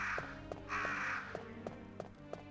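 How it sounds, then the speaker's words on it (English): Crows caw in the Resident Evil video game, two harsh calls over a rhythmic series of soft thuds and footsteps, moderately close and not very loud. "Now, do the crows attack, or do they leave me alone?"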